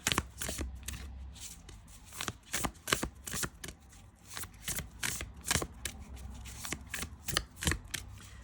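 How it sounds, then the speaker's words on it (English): Oracle cards being shuffled overhand, a steady run of quick papery slaps and riffles, close up and fairly soft, with no talking. "I normally shuffle like this. Overhand shuffle."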